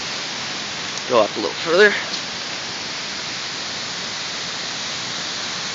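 Heavy late-July rain pours with flood water rushing down Effingham Street in Pelham, a steady dense wash of noise throughout, with a brief voice speaking early on.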